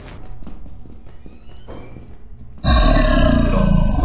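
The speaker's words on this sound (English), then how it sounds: "Did you not hear that very loud growling noise?" A loud, sudden monster growl erupts in a video game and swells into a heavy, sustained roar that fills the rest of the moment after quieter game sounds.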